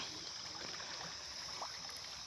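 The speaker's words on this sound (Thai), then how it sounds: "น้ำไหลใส่เย็นเนาะนี่ น้ำไหลใส่สะดวก" Flowing water gives a faint, steady trickling rush, continuous and unbroken, with no other sounds standing out.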